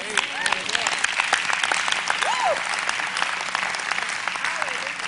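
A seminar audience on religious kingdom teachings bursts into close, brisk applause, a dense patter of many hands clapping at once, with a few scattered voices rising through it.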